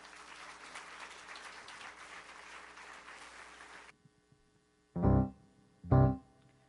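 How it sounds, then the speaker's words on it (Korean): A church congregation applauds to welcome a worship team, steady dense clapping for about four seconds that stops abruptly, followed by two short loud bursts. "박수로 환영해 주시겠습니까?"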